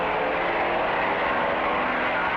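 A steady, loud propeller-engine roar fills the air as a 1949-era aircraft takes off from a carrier deck, droning continuously without a break.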